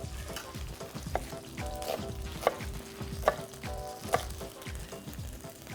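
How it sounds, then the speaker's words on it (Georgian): Onion and meat frying together over high heat in a pot for a miso soup, a steady close sizzle with scattered crackles and a few sharper pops, no voices. "აი ამ შემწვარი ხორცის წვენში მოიშუშება ეს ხახვი"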